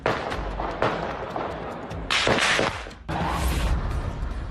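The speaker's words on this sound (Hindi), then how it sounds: "ये सड़कों पर धड़ाधड़ गोलियां दागते रहे।" Bursts of loud gunfire crack and boom in quick succession in a Vienna street during a terror attack, with harsh broadband blasts separated by brief lulls, sounding close and chaotic.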